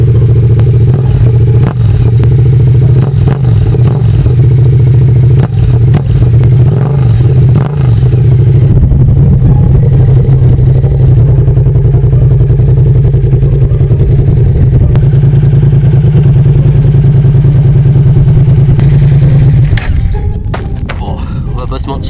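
Motorcycle with no exhaust baffle, recorded from the ground right beside the exhaust pipe: a loud, steady close-up idle rumble with throttle blips and thuds for about twenty seconds, ending in a brief quieter stretch.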